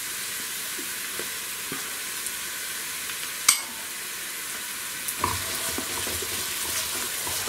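Onions sauteing with garlic and ginger in a pan for a cabbage soup, giving a steady soft sizzle with occasional stirring clicks and scrapes, moderately quiet and with no talking.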